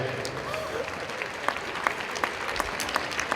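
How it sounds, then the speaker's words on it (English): Sustained applause and crowd noise fill a mixed martial arts arena after a three-round fight in the Road to Abu Dhabi series, a steady wash of clapping with sharper individual claps standing out. "let's give a round of applause to both fighters"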